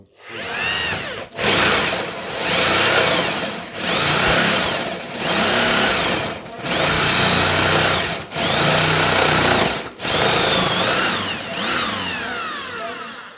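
A metal hole saw drills through a piece of aluminum, producing loud, close grinding whine in about eight sustained bursts separated by brief pauses, each swelling and easing as the cutter bites into the metal.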